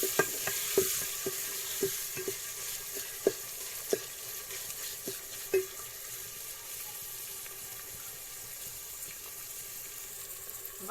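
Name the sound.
garlic and tomatoes frying and being stirred in pan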